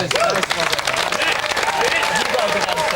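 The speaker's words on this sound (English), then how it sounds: "Round of applause for that answer." Studio audience applause breaking out for a good answer on a live Saturday-morning TV phone-in, dense steady clapping with cheers and overlapping voices throughout.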